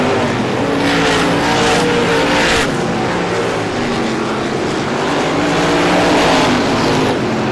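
Several race cars roar through a turn in traffic at an oval stock car event, engines loud and dense, with rising and falling engine tones as the pack sweeps past, no talk over it.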